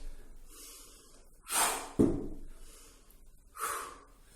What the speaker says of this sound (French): J'inspire quand je descends,